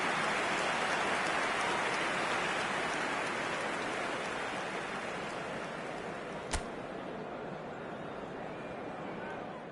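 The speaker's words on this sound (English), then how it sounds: "We welcome you to a rainy day here, damp but potentially dramatic." Steady rain pours over a football stadium in eFootball, a dense, even hiss that holds throughout with one sharp click partway through.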